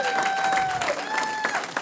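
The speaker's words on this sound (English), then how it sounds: "Round of applause for seeing that movie." A stand-up comedy audience claps, a short burst of dense, steady applause from a room full of people with no talk over it.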